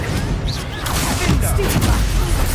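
A Confringo fire spell in Hogwarts Legacy goes off as a loud, dense burst of crackling blasts and booms in a noisy game fight, with whooshing spell sounds layered throughout.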